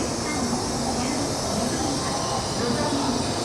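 An N700 Supreme Shinkansen train in Japan gives a steady broadband rush and hiss of rail travel throughout, with a low rumble underneath and some faint talk mixed in.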